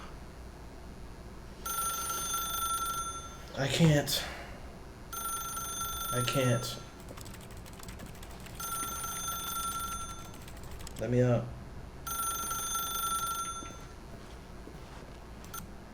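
An old-style telephone bell rings in three bursts, each lasting about a second and a half, in The Stanley Parable video game. A narrator speaks in between, and a strained voice cries out during the ringing.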